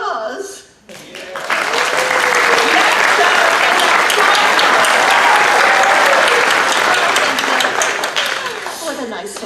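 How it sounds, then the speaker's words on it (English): Theater audience applause at a summer community theater show, a loud sustained burst of clapping rising quickly after a short pause and holding steady for several seconds before easing off. "She needs laughter and applause"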